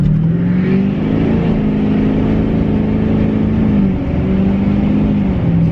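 A 2012 Duramax diesel pickup of about 10,000 pounds, fitted with new tie rod sleeves, launches hard from 0 to 60. Its engine roars loud and close without a break, with short dips at the gear shifts and no voices.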